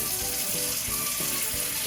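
A kitchen tap runs cold water steadily into the sink after noodles are boiled for a chicken and vegetable pad Thai, a continuous close rushing splash with no talking.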